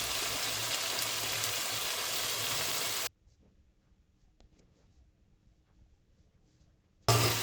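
Washed goat heads drop into frying spice masala, throwing off a loud, dense sizzle for about three seconds that then cuts to near silence before briefly bursting back at the end.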